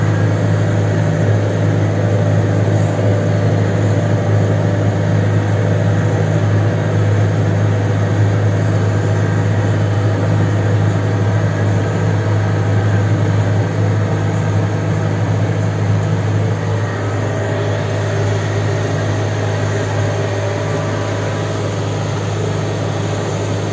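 Kubota M108S tractor pulling a cotton seeder through a field, its heavy diesel engine droning steadily and loudly at a constant pitch for over twenty seconds, with no voices.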